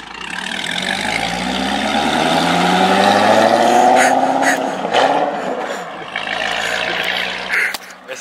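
A Corvette C6 Z06 fitted with a Corsa Extreme exhaust pulls away, its deep V8 rumble swelling loud and close as it revs and rises in pitch, then fading as it drives off.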